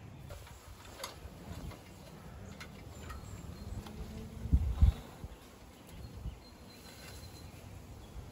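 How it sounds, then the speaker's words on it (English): A swarm of bees hums steadily near a ladder as someone prepares to shake them into a box, a faint continuous drone with a few louder thumps midway. "We're gonna try and shake those bees into this box."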